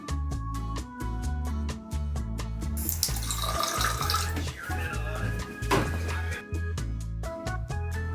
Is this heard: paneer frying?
no